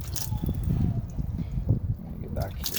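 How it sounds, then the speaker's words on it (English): Hot water is poured onto the ice-covered coil of a central air conditioner, a steady close splashing and trickling wash that runs throughout at moderate loudness. "So I'm gonna pour some hot water on it."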